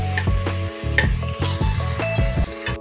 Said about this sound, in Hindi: दाल अच्छे से फ्राई हो चुकी है।